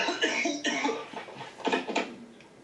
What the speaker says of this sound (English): as I was coughing, this bubble was rising and it was getting stuck.